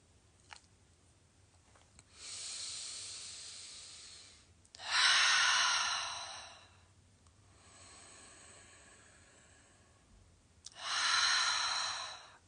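Slow, deep breaths in and out during a guided relaxation exercise, about three long airy inhales and exhales alternating with quieter gaps, close and fairly soft with no talking.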